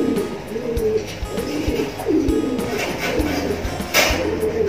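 Pigeons in a loft coo repeatedly in low throaty rolls, close by, with soft clicks and rustling around them.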